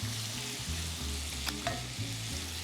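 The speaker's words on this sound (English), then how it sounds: "We're just gonna let these saute for a little bit until they soften and get a little color." Leeks sautéing in a hot pan, a continuous close sizzle with a brief clink of a utensil midway, no speech.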